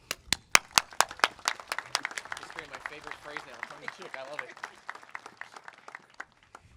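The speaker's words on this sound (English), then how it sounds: "Please join me in welcoming Phil to the podium." An audience at an outdoor Memorial Day ceremony at Mt Soledad claps to welcome a speaker to the podium, starting with a few loud, distinct claps that thicken into steady mid-level applause lasting several seconds.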